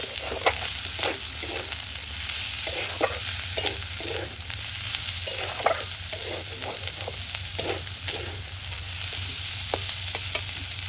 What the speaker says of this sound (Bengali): আর দেব অল্প লঙ্কা গুঁড়ো, এটাকেও ভালো করে ভেজে নেব।